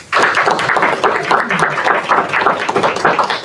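Steady applause fills the room from an audience at a school board of directors meeting, continuous dense clapping starting abruptly and holding strong throughout.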